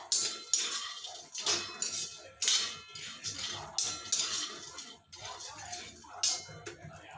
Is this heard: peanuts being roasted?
yes